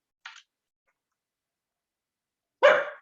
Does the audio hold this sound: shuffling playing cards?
no